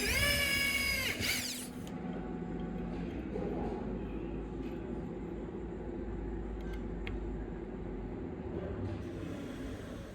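A drill bores holes through a dark hardwood block for custom knife handle scales, opening with a brief high whine that drops into a steady, loud grinding drone that continues to the end, with no talking.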